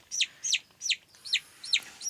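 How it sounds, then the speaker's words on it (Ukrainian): A duckling peeps six times in a steady rhythm, thin high-pitched cheeps separated by short pauses, quiet and fairly close. "Піщить."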